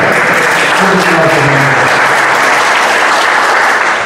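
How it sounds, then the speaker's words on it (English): Loud, continuous audience applause at a panel discussion on national borders and extremism in Europe, steady and dense throughout with faint voices mixed in. "There is a applause for Ljubica."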